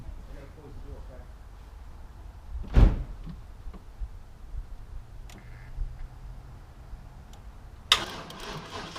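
A door closes with one sharp, loud thud early on in a quiet room, followed by faint ticks and soft clicks, with a louder clatter near the end.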